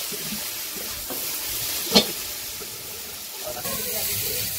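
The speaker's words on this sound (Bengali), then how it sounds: "ওই চুকলার আলু মিশিয়ে ভাজি করতেছে" Bottle gourd peel and potatoes fry in a pan in a Bangladeshi village kitchen, a steady hissing sizzle with light stirring and one sharp clatter partway through.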